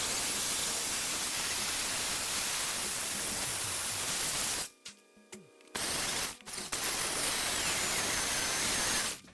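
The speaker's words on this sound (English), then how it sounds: "I'm going to take the Dremel and I'm going to sand those edges down." A Dremel sands the edges of a hexagon bookend with a steady, loud, hissing grind that cuts out briefly midway, sputters, then resumes at full strength, close with no voices.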